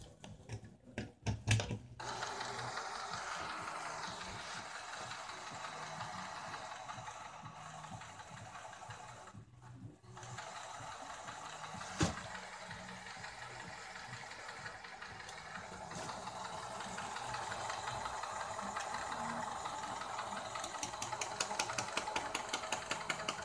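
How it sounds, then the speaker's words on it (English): A small ink pump motor in an Epson L series inkjet printer runs steadily with a low mechanical whir and faint clicking, pausing briefly a couple of times before continuing, no voices. "Testing pump on Epson printer."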